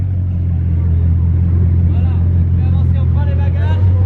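A stationary Bugatti Chiron idles with a deep, steady, loud rumble that holds unbroken throughout, while a voice talks over it.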